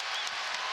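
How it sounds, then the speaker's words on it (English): A basketball arena crowd at an NC State Wolfpack home game against Virginia roars in a steady wash of cheering and clapping, distant and moderately loud, with no pauses. "now we're getting the crowd alive"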